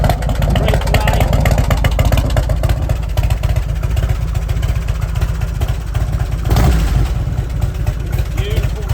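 A 1997 Harley-Davidson FLSTS Heritage Springer with a 113-inch V-twin idles close by in a steady, loud, lumpy low rumble, with a brief surge of throttle near the end.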